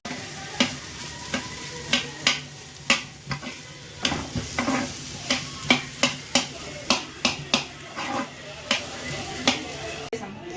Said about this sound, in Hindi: ये अभी भरता फ्राई कर रही है।